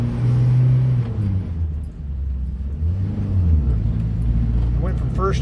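Car engine rumbling loud and close as it accelerates and shifts from first to third gear, its pitch rising and falling with each change, with voices talking over it.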